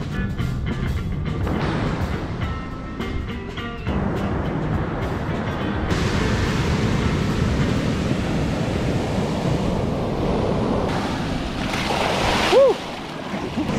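Ocean surf washing onto a broad public beach at Lo de Marcos, Mexico, a steady broadband roar with gusts of wind on the microphone and a brief splash near the end.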